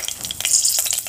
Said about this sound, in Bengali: সোয়া শাকটা একটু ভাজা ভাজা হোক, বেশি ভাজা হবে না, অল্পই